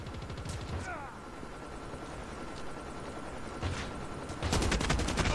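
Gunfire from a gun in Call of Duty Mobile, with scattered shots early on and a dense rapid burst of automatic fire near the end, over a continuous background rumble of game noise.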